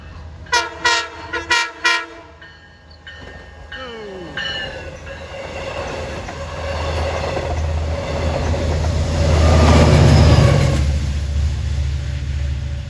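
A passenger train sounds several sharp horn blasts at a crossing, then its rumble and wheel noise build steadily as it approaches and passes close by, loud and continuous.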